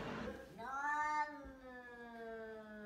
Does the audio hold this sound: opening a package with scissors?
no